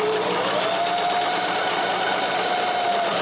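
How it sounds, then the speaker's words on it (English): A Janome HD-3000 sewing machine stitches fabric, its steady close-up mechanical whir running continuously at a constant speed, with no talking. "roll the back stitch and then stitch forward"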